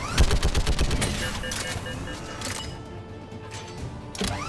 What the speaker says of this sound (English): Oh, I love this gun. It just liquefies.